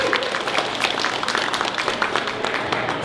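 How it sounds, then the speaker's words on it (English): Audience applause at a green jobs pavilion event, a fairly loud, even wash of many hands clapping that holds steady without any talk. "We should applaud."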